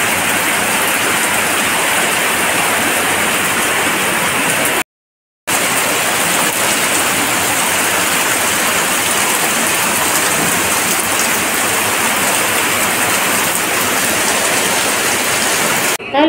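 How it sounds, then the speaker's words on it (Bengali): Heavy rain pours down in a loud, dense, continuous roar during a storm, cutting out briefly for a moment before resuming unchanged. "ভীষণ জোরে জোরে হচ্ছে বৃষ্টিটা"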